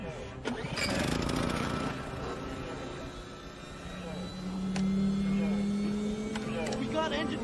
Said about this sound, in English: We got engine power back.